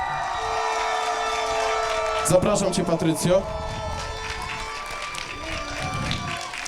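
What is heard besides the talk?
audience applause and cheering at a beauty pageant award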